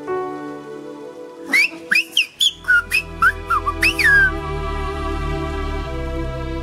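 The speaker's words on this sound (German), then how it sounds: "wenn man ein Pfeifen hört, dann heißt das nicht unbedingt, ein Vogel trällert zwischen den Ästen" Human whistling on La Gomera, a sequence of sharp, piercing, bird-like whistled notes with rising and falling glides, loud and close, over a steady background hum.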